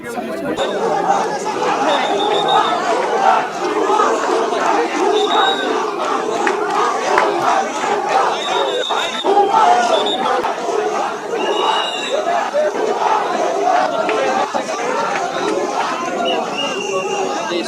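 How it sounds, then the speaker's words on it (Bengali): Crowd of students chanting slogans, a dense continuous roar of many voices with shouted rhythmic calls, loud and close throughout, at the site of a plane crash. "শিক্ষার্থীরা তাদেরকে ভুয়া ভুয়া স্লোগান দেয়"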